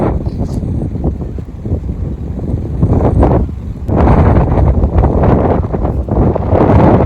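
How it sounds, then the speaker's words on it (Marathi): Strong wind buffeting the microphone beside Pavna Lake near Lonavala, a loud, continuous roaring rush that swells and dips in gusts throughout, with no talking. "हवा खूप सुटली आहे"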